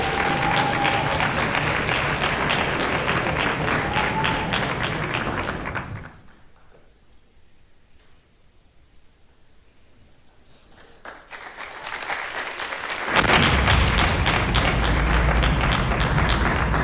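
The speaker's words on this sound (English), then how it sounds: "Please help me give a warm round of applause and a welcome to Professor Achille Mbembe." Audience applause at an African democracy summit, a dense crowd clapping that drops away into near quiet for several seconds, then swells back up into loud, sustained clapping toward the end.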